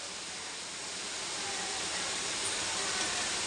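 Onions, curry leaves and green chilies sizzle steadily in hot oil in a pan for crab curry, a close, even hiss that builds slightly louder over a few seconds with no talk.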